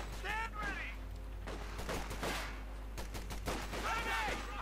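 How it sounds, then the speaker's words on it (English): A light infantry gun fires in the World War II strategy game Company of Heroes 2 amid battle noise: rumbling gunfire and explosions under steady game sound, with a voice talking over it. "Light infantry gun firing in there."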